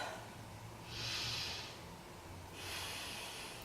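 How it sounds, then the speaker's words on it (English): Deep yoga breaths during a hip and side-body stretch: two long, airy, hissing exhalations, close and fairly soft, with a quiet pause between them and no talking. "Take 3 breaths."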